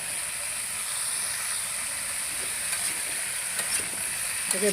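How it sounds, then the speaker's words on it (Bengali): Mixed vegetables, including ridge gourd and eggplant, fry in a wok with a steady close sizzle and hiss, while a spatula stirs and scrapes now and then; no one speaks. "ভালো করে ভাজা ভাজা করে নেব"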